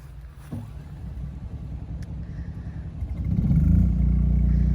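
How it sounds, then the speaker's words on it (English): The onboard generator of a 2013 Winnebago Era 70X motorhome cranks and starts, then settles into a steady low engine rumble that grows louder and rougher as it catches. It is heard from close by, with no talk over it. "What you're hearing right there is the generator starting up from inside."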